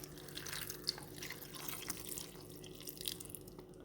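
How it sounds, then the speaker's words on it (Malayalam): Water is added to a pot of drumstick and tomato curry, producing a faint, soft trickle with light drips close by. Nobody speaks. "നമുക്കിതിലേക്ക് ആവശ്യത്തിനുള്ള വെള്ളം ചേർത്ത് കൊടുക്കുന്നുണ്ട്"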